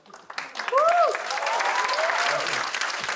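Church congregation applauding at a youth retreat worship session, dense clapping rising quickly and holding steady, with a few voices and whoops over it.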